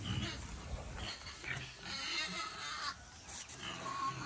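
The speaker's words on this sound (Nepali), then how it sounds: "अनि सुँगुर पनि अलिअलि कराउँदैछ" Young piglets grunt and squeal in short, rough bursts, fairly close and faint, with some background noise around them.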